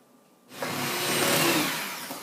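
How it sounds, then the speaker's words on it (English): An electric mixer starts after a quiet moment and whirs steadily and loudly, beating butter, sugar and eggs for a lemongrass raspberry cake batter. "I'm going to continue beating this until it's light and fluffy"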